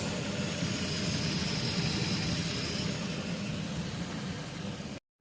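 Nissan Xterra engine running while driving, a steady broadband rumble with road and cabin noise, constant and fairly close, cutting out abruptly at the end.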